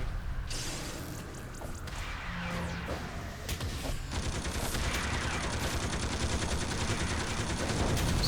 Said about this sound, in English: They're all shooting me.